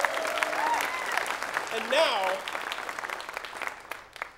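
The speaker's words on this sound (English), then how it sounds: "round of applause for these guys." An audience claps for taiko drummers at a Japanese drumming demonstration, a dense patter of hands starting loud and gradually thinning, while someone talks over it.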